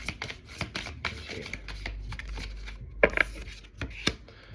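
Tarot cards are shuffled and pulled by hand nearby, giving quick riffling and sliding flicks with a few sharper snaps, and no talking.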